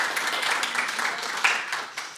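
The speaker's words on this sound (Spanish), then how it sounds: "Un aplauso nuevamente para nuestro Yeshua" A church congregation gives a round of applause during a Sunday service, a continuous wash of many hands clapping at an even, moderate level.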